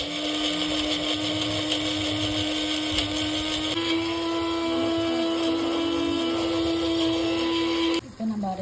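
A mixer grinder whirs loudly and steadily, blending soaked cashews into a fine paste for a Tamil-style mushroom gravy, the motor running unbroken for about eight seconds before cutting off abruptly near the end.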